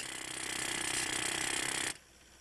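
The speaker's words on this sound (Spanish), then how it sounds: "hay que hacer los agujeros para meter las cuñas" Drill boring holes into black stone at a quarry so that wedges can be inserted, a loud, steady grinding rattle that stops abruptly near the end, leaving quiet.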